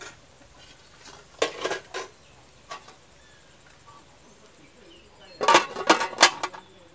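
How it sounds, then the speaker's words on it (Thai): A metal lid goes onto a cooking pot of curry made with wild forest greens, giving a few sharp metallic clanks and rattles early on and a louder cluster of clatter near the end, with quiet gaps between. "เดี๋ยวเฮาปิดฝาไว้ก่อนครับ"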